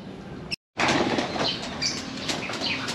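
Pigeons flap their wings in flight outdoors, a dense whirring flutter that runs nearly the whole time, broken only by a brief silent gap near the start.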